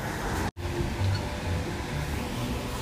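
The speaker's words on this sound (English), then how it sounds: "it is pissing it down with rain and blowing a hoolie" Heavy rain and strong wind in Suffolk make a steady, broadband outdoor roar with gusty rushing. A brief dropout comes near the start, and no one speaks.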